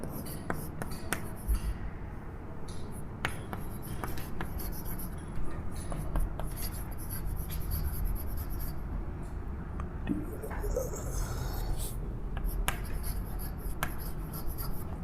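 Chalk or marker writing on a board during a physics lesson, steady scratching strokes with frequent sharp taps and clicks, close and continuous with little talk.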